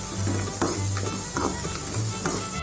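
Grated carrot sizzling with onions in a frying pan, a steady close crackle of frying broken by a few stirring scrapes, no voices.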